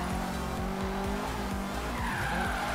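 A Subaru drifts hard in Forza Horizon 3, its tires skidding and squealing over a steady engine roar, loud and continuous throughout with no talk over it.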